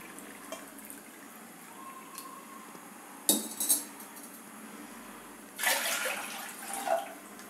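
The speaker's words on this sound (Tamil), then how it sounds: "அது போக வந்து 4 பங்கு தண்ணி வந்து ஊற்றிடுறேன்" Water splashes and trickles into a metal pot in a couple of short bursts for cooking Mappillai Samba rice porridge, with clinks of cookware between pours, close and fairly loud.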